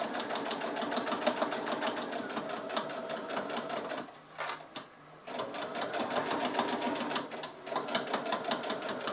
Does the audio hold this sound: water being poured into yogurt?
no